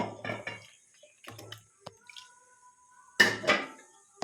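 Boiled moong dal, cauliflower and potato go into a simmering pot of kurma, heard as a few close wet plops and splashes with clinks of a spoon against the metal pot, separated by quiet pauses.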